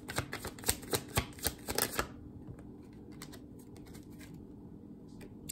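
Rapid riffling of a card deck shuffled for about two seconds, crisp fluttering clicks, then quiet room tone.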